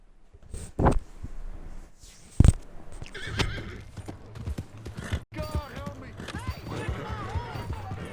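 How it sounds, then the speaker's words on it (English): Horse neighing and hooves clopping in the Red Dead Redemption 2 video game: sharp loud whinnies near 1 and 2.5 seconds, then steadier hoofbeats and game voices talking over the rest. "O Arthur demorou um século subindo no cavalo."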